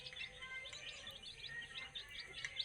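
Small caged birds chirp after being let out into the open, a faint, busy chorus of quick high tweets repeating irregularly over a light background hiss.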